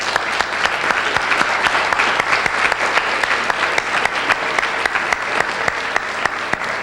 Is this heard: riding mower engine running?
no